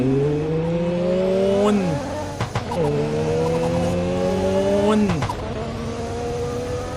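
Tyres squeal as a car skids in the Roblox game Midnight Racing, with R33 and R34 Nissan Skylines on the road. Two long, loud screeching slides with steady engine drone underneath.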